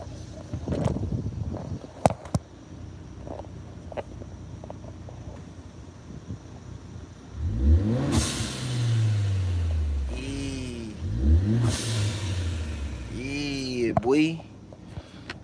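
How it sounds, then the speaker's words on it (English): Turbocharged car engine revved hard several times, each rising and falling whine loud and close, with scuffs and handling noise before the revs. "Y'all want to hear the motor?"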